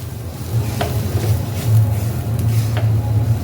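Semolina and vegetables stirred and roasted together in a pan over a low flame: a loud, steady frying hiss and hum with occasional soft scrapes from the stirring.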